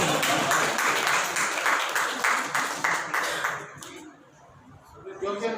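Clapping from an audience at an Urdu conference session in a women's college hall, a dense steady patter that fades out after about three seconds, leaving faint room noise and a voice near the end.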